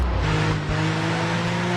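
Car driving in the Xbox 360 game Blackwater, a steady engine drone with tonal hum, loud and continuous, one brief dip partway through.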